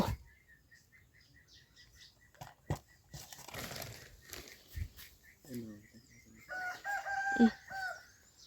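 A rooster crows and chickens cluck at a rural Thai homestead, several repeated calls over about eight seconds, with a louder crow near the end and people talking faintly in the background.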